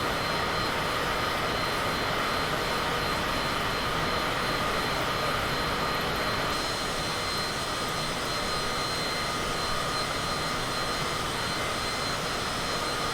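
Jet airliner engine noise from a flight simulator game, heard outside the plane near Dallas Love Field, is a loud, steady broadband roar and whine that continues throughout with no talking.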